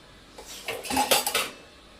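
Spoons and plates clatter and clink together in a short close burst of metallic and ceramic knocks, rising and then fading within a couple of seconds, no talk.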